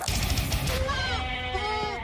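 Goats bleat in a wavering, nasal cry that rises and trails off, loud and close over a rumbling background, with no talk over it.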